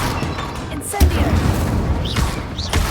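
Fire spell Incendio cast in the Hogwarts Legacy video game, giving a bursting whoosh and crackle amid dense combat effects, with a sharp thump near the middle and brief swishing spell sounds, while a voice shouts the incantation.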